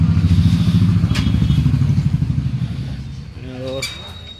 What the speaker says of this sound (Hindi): उसके बाद अब बाइक निकल रहे हैं